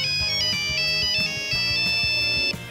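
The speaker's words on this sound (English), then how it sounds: "The Nokia 3310 would come out to become an extremely popular phone in 2000, with that iconic ringtone" The iconic Nokia 3310 mobile phone ringtone plays its bright, beeping melody in quick repeated phrases, loud and alone before cutting off abruptly.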